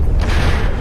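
A torpedo detonating in the naval combat game From the Depths, one short, heavy boom with a rumbling low end, loud and close, lasting under a second.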